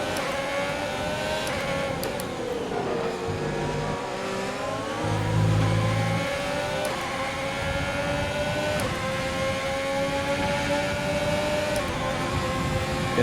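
Formula 1 race car engine from the F1 2020 video game, accelerating and revving hard with rising and falling pitch through gear changes; a loud, continuous, close onboard whine with no talk.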